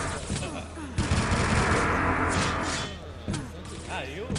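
Shotgun blasts in a Quake Live team deathmatch tournament, rapid overlapping bursts of gunfire mixed with other weapon noise, sounding loud and close under a commentator's steady talk.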